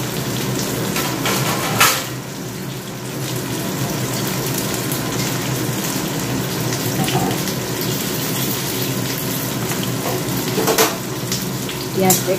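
Onions fry steadily in a pan for mutton curry, a dense, even sizzle close up that continues without a break, with a few louder crackles and faint clatter now and then.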